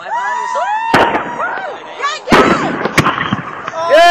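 Fireworks explode close by at an outdoor show. Several sharp bangs and crackles mix with whistling, whining hummers that rise and fall, and the bursts come in quick irregular succession.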